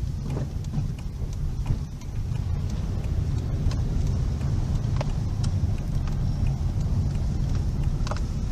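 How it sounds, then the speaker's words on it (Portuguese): A car engine labouring in the wrong gear in traffic at the seaside resort of Riviera de São Lourenço in Bertioga, heard as a steady, heavy droning rumble that runs throughout, with no one speaking. "O carro tá reclamando, gente."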